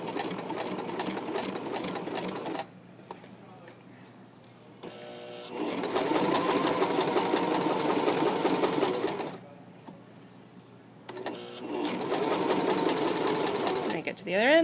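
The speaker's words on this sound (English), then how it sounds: "to turn fabric on a sewing machine" A sewing machine stitching fabric along an inward curve runs in rapid mechanical bursts, stopping and starting several times, with a person talking in the pauses and over the stitching.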